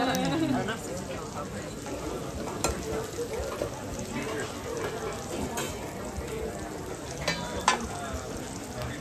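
A5 Wagyu beef sizzling and frying on an outdoor grill at Tsukiji Market, with steady crackling and the scrape of stirring. Voices murmur faintly in the background.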